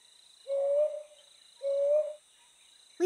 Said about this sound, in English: Brown hawk owls make loud calls.